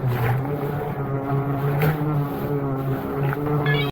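Lift3 Pro eFoil board motor whining steadily on the water, a close tonal hum with a droning harmonic buzz, no talking.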